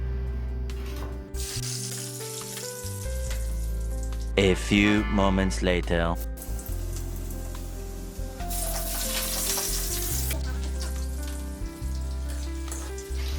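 Garlic drops into hot oil in a pan and sizzles steadily, the frying hiss swelling and fading as it is stirred, with some kitchen clatter and brief talk over it.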